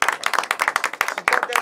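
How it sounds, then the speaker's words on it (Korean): Brief burst of quick, close hand clapping from a small group during a live broadcast check-in, sharp distinct claps in a fast uneven rhythm. "박수 쳐주세요"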